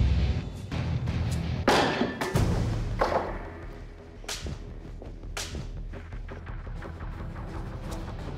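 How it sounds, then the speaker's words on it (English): Kpinga throwing blades strike a log wall in a forge competition setting, a series of sharp whipping impacts and thuds spaced a second or so apart, fairly loud and with no talk. "I'll be throwing them into our log wall 3 times each weapon."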